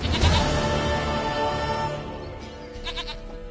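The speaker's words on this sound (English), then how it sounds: "Goat of mine, dearest, sweetest goat." Goat bleating in The Witcher 3, a loud close bleat at the start over steady game ambience, with fainter animal calls later.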